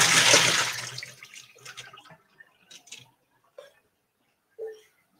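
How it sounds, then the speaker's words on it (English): Water from cooked green beans pours off in a short gushing splash that trails into a few faint drips and small trickles. "You can take your green beans and drain them."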